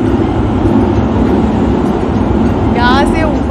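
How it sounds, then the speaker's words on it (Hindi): A metro train runs along an elevated track above Tempe Beach Park in Arizona, making a loud, steady rumble throughout with a brief high squeal near the end. "यहाँ से ऊपर से होके मेट्रो भी जाती है।"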